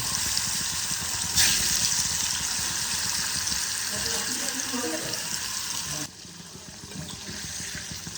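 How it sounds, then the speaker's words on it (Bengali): Paneer cubes frying in mustard oil in a pan give a steady hiss with water-like sizzling throughout, a brief sharper burst early on, and a drop in level near the end. "এবার আমি পনিরগুলোকে ভেজে নেব।"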